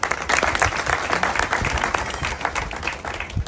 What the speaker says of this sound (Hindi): इस उत्तमता के लिए तालियां हो जाए।